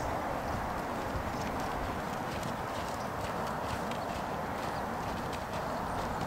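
A horse walks with a rider during a riding lesson, its hooves clopping in a steady, even rhythm over a dense, rushing background noise that stays at a constant level throughout.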